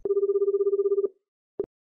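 A telephone rings once with a long, steady electronic trill lasting about a second, followed after a short gap by a brief second chirp, clear and close with no talking.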